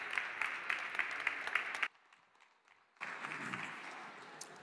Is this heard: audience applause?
yes